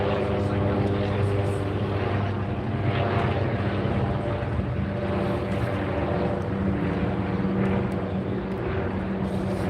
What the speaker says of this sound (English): they have a helicopter flying overhead.